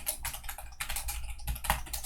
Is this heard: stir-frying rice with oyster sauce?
no